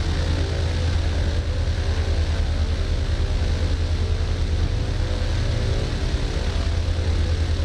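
A propeller aircraft engine in Microsoft Flight Simulator, a steady, loud droning hum that holds constant for the whole stretch without any voices.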